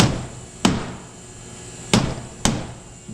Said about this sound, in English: Tap that with the mallet